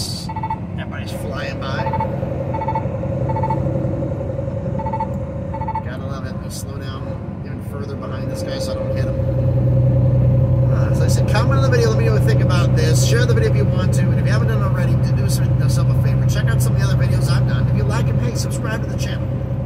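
Steady in-car road hum while driving behind a FedEx truck at about 46 mph on a busy highway as faster traffic flies by. A constant engine drone deepens and grows louder midway, with a voice heard faintly at times.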